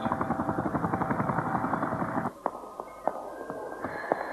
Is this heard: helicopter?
yes